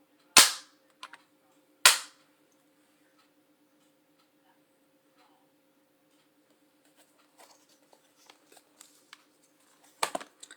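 Two sharp, loud snaps of strong magnets on a Stampin' Up! Stamparatus slamming together, close and percussive, followed by quiet ticks and small clacks of handling.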